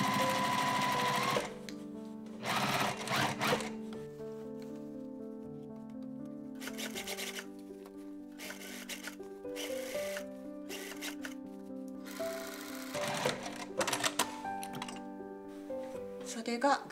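A home sewing machine stitches a jacket sleeve in repeated bursts of rapid mechanical whirring, separated by quieter pauses with faint handling noise, fairly close.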